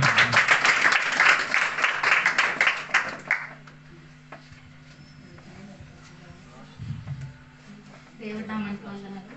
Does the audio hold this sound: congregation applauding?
yes